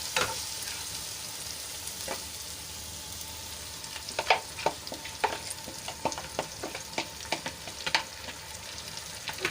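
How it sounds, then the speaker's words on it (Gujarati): Spiced yogurt paste stirred into onions frying in a pan, a steady sizzle broken by a run of sharp scraping and clattering stirring strokes in the second half, close and with no talk. "હવે મસાલા અને દહીંની જે પેસ્ટ બનાવીને રાખી હતી એ આપણે આમાં એડ કરી લઈશું।"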